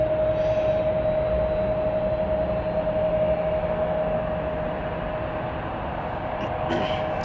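A KLM airliner taxis at San Francisco airport before takeoff, a steady, loud broadband engine roar with a sustained whine holding throughout, continuous and fairly close.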